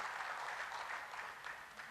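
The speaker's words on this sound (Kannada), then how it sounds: "ಅವ್ರಿಗೂ ಒಂದು ದೊಡ್ಡ ಚಪ್ಪಾಳೆ ಈ ಸಂದರ್ಭದಲ್ಲಿ ಸಲ್ಲಬೇಕು" A crowd at an LIC achievers' convention in Mangalore gives a brief, faint burst of steady clapping, heard from a distance without any speech.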